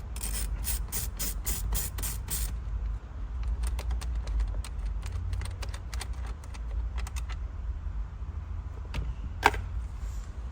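A ratchet wrench loosens a fixing screw inside a Ford Fiesta ST MK7 cabin, giving a run of rapid close clicks at first, then scattered sharper clicks over a low steady background hum.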